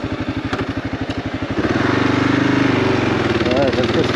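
Kawasaki KLR650 motorcycle, first a close, evenly pulsing idle, then the engine note rises and steadies into a fuller drone as the bike pulls away on a dirt trail.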